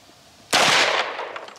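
A CZ Scorpion Evo firing at an outdoor range: one sharp, loud, close gunshot after a short quiet lead-in, followed by about half a second of fading echo.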